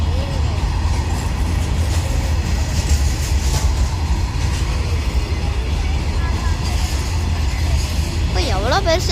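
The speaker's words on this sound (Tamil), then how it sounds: "ட்ரெயின் போனதை பார்த்தீங்களா? பாருங்க விடாமல் போயிட்டே இருக்கு பாருங்க." A train rumbles steadily past for several seconds, a continuous loud rolling roar with faint rhythmic clatter.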